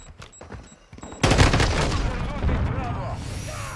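Gunfire in Call of Duty Modern Warfare 2 erupts as a sudden loud burst of rapid shots after a quieter stretch, then runs on as a dense roar of game audio.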